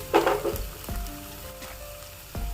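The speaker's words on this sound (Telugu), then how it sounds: "వీటినైతే వేయించుకోవాలండి ఒకసారి గట్టిగా మొత్తం కలుపుకుందాము" Tomato pieces frying in a pan for a vegetable chapati roll, a soft steady sizzle with a few stirring scrapes and clunks of a utensil against the pan, no talking.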